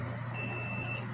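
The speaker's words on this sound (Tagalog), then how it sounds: "Nagbabuzzer yan mga ka-idol." A small buzzer sounds during a low-voltage disconnect test on a solar inverter setup, a steady high electronic tone holding for most of a second over low hum.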